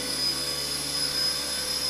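A helicopter's engine and rotors drone steadily nearby as they spin up for takeoff, a constant high whine that holds level throughout with no voices.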